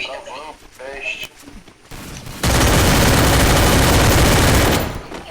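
Loud, dense burst of gunfire in a Portuguese-language battle royale shooter match, a sustained roar of rapid shots lasting a couple of seconds after a stretch of players talking over game sounds.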